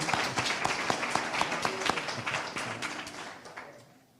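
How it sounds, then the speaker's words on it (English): An audience at a congressional awards reception claps steadily in a dense, lively round of applause that gradually tapers off over about four seconds. "please give them another round of applause"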